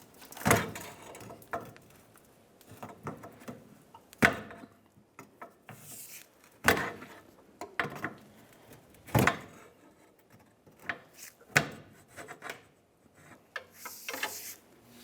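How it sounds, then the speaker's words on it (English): Plastic and rubber scraping and creaking as a filler hose is pried off the fuel filler neck tube of a 2000-2006 Chevrolet Tahoe, a series of sharp, uneven rasps and clunks with quiet pauses between them. "Go ahead and carefully pry it off of the filler neck tube."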